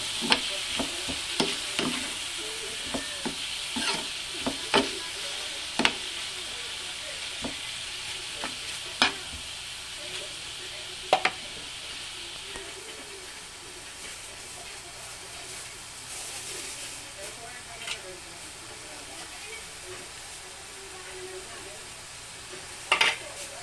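Ampalaya and eggplant are stirred in a sizzling pan, with repeated scraping clicks of the utensil over a constant frying hiss, close and fairly loud.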